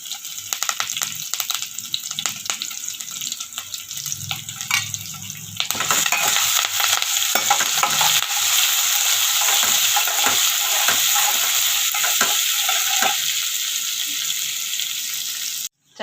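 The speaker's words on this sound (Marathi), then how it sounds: "तोपर्यंत आपली फोडणी स्लो गॅसवरती छानपैकी भाजते" Crushed ginger, garlic and curry leaves sizzle loudly in a tadka on slow heat for kadhi, a steady close frying hiss with stirring scrapes, rising sharply partway through and continuing until it cuts off.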